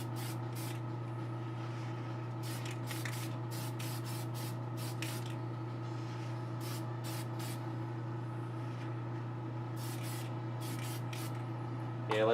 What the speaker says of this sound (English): I'm going to hit it with some dull coat just to kind of see like how this works out.